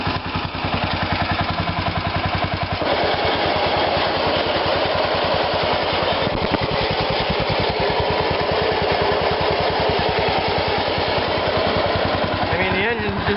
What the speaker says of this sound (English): the engine's just idling, and it's running that snowblower no problem.